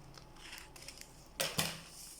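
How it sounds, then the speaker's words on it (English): Scissors snip through sandal material in a handmade sandal workshop, giving a few faint light clicks followed by two sharper, louder crunching cuts close by, with no talk. "So I'm going to use my scissors to try to cut it out."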